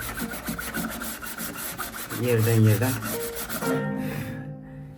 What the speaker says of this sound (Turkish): Zımparayı da tele değdirmemiz lazım ki teli bozmasın